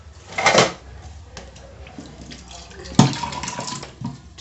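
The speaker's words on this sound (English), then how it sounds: "I'm going to add in a little bit of cold water." Cold water is poured into a blender while making chicken tikka masala curry, giving a short splashing gush, a quieter trickle, then a second sharper pour with a brief clatter, close and fairly loud.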